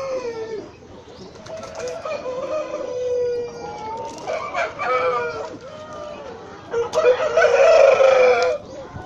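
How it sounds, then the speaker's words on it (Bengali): An aggressive rooster on a poultry farm for hatching-egg layers gives loud, close, drawn-out calls and squawks, with a rising crow-like cry near the end over background hen clucking. "দেখেন একটি মোরগ খুব অ্যাগ্রেসিভ আমাকে ফটো দিতে চাচ্ছে"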